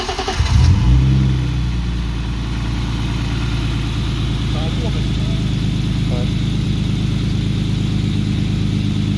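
A car engine cranks and catches with a loud burst, then settles into a steady, throbbing idle that runs on evenly to the end, close by, with voices talking over it.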